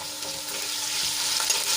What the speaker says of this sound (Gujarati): અને થોડીક સાંતળી લઈશું.